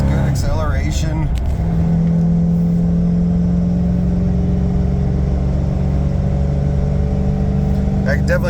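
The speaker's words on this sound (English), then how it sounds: "That's third gear, coming from down low. Real nice, good acceleration." A pickup truck with a 460 EFI V8, stage 1 camshaft kit and throttle body pulls hard in third gear from low revs, a loud rising engine growl that holds a strong steady drone; a voice speaks briefly over it.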